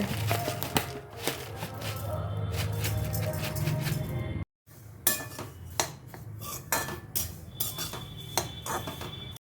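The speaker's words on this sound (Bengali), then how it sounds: "প্রথমে ওটসটাকে কড়াইতে দিয়ে হালকা একটু নাড়িয়ে নেব।" Oats being stirred dry in a wok, heard as a close run of metallic scraping and repeated utensil clinks against the pan, with a brief pause midway.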